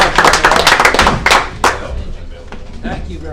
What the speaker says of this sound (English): let's give a round of applause for Larry